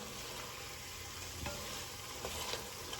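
Very lean ground beef frying in a pan and stirred with a wooden spoon, giving a steady soft sizzle with a few scraping stir sounds, close and fairly quiet, with no talking.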